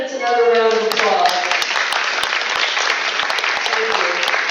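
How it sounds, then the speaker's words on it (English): Audience at a county commissioner candidate forum applauds, a steady round of clapping that briefly overlaps a voice at the start. "Let's give the candidates another round of applause."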